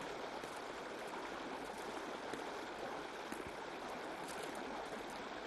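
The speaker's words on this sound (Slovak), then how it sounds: "Horská riava v okolí pôsobí hrozivo." A rushing mountain torrent near a forest edge gives a continuous broadband roar of churning water, steady and even with no pauses, moderately distant and quite faint, with no voices.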